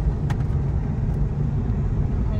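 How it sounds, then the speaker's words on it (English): A Tesla Model 3 driving on a road toward a diverging diamond interchange, heard from inside as a steady, loud low rumble of tyre and road noise. "now we're about to go drive on this diverging diamond interchange on the way to the Supercharger"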